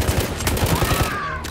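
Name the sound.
gunfire in the video game Battlefield 1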